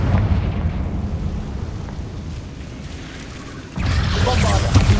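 Confringo blasting spell in Hogwarts Legacy: a steady low rumble, then a loud burst of explosion with crackling debris near the end, alone without talk.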